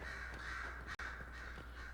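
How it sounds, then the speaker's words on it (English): Crows caw in the game Dragon Age: Inquisition, several harsh repeated calls over steady ambient background noise, moderately near, with no talking. "Birds!"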